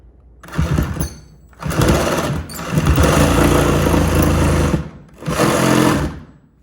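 A handheld power tool cuts an access opening through a wall near a leaking water pipe, running in three loud, harsh bursts with short pauses between them, close up and without talk.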